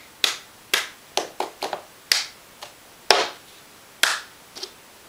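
A cup song rhythm plays out alone, with crisp hand claps and taps of a cup on a table landing in a quick, uneven pattern of about a dozen sharp, close hits.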